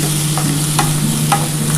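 Raw chickpeas being stirred with papaya and potato in a pan, with steady scraping strokes over a constant low sizzle, close and fairly loud, no voices.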